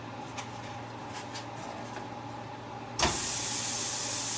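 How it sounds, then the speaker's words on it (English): Chopped meat hits a hot pan, and a loud, steady hiss of sizzling starts abruptly partway through after a low, quieter hum. "You hear that simmer?"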